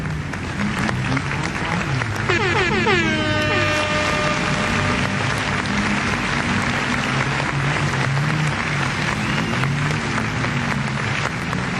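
At a speedway meeting, a crowd in the stands applauds the winner of a Junior Sedan race, with broad, sustained clapping and cheering that stays loud throughout alongside a booming announcer's voice.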